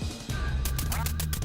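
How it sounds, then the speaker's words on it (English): A duck quacks in the Metal Gear Solid: The Twin Snakes video game, a few short nasal quacks close up over game background sound. "That stupid duck keeps getting in my way."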